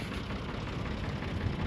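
A tractor engine idles steadily at a homestead property, a low continuous rumble held at an even level throughout with no talking over it.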